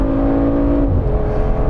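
A 2023 Mercedes-AMG G63 4x4 Squared engine accelerates hard, a loud, steady close-up roar with tonal hum that shifts in pitch partway through as the revs change, with no talk.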